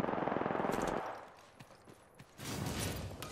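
Bursts of automatic gunfire in the video game Apex Legends: a rapid close stream of shots at the start, scattered single shots in the middle, then another sustained burst near the end.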